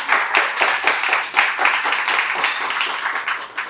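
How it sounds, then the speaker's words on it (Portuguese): An audience at a company gathering gives a short round of applause, rhythmic claps in a moderate-sized room, fairly close and steady for a few seconds. "Queria pedir uma salva aí de aplauso para ela."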